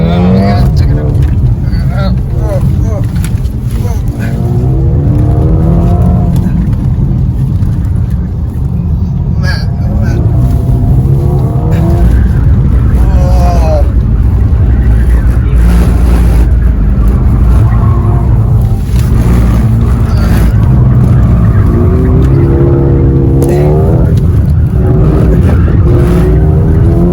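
A Mercedes-Benz car drives and accelerates hard during a media-event ride, its steady loud engine and road roar filling the cabin while people talk and exclaim over it throughout.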